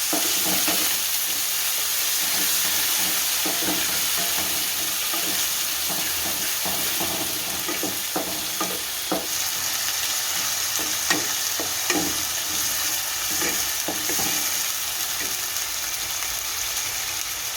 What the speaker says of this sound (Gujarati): હવે આપણે કાંદા નાખશું, અને હલાવી નાખશું સારી રીતના।